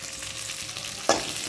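Tomatoes go into a pan where onions are frying with salt. A steady close sizzle runs throughout, then jumps sharply into a louder hiss as they land.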